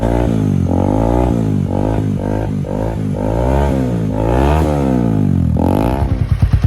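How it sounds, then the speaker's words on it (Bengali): A TVS Apache 4V motorcycle with a Mivv exhaust fitted and its dB killer removed revs repeatedly, its loud throaty roar rising and falling, ending in a sputtering idle. "ফাইনাল সাউন্ড হচ্ছে এটা উইদাউট ডিবি কিলার সাউন্ড এটা"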